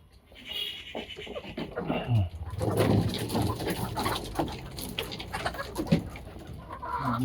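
Fayoumi hens cluck and squawk in a farm shed, a busy close mix of bird calls and rustling movement with scattered sharper cries.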